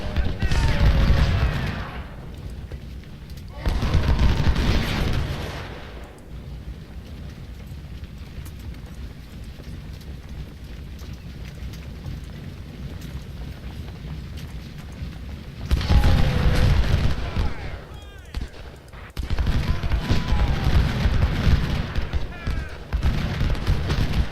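Musket volleys and artillery booms rumble from a Civil War battle in the strategy game Ultimate General: Civil War, in two dense bursts of rolling gunfire separated by a quieter stretch of distant crackle.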